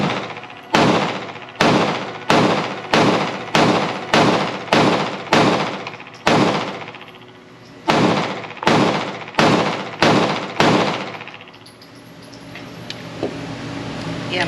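Rapid shots from an FN Reflex Micro pistol, about fifteen loud sharp reports in quick, slightly uneven succession with brief pauses, each ringing off, then the firing stops and a quieter room tone remains.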